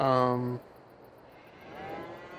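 A dairy cow in a milking barn gives one loud, close moo at the start, followed by quieter barn ambience and a faint, distant second low call near the end.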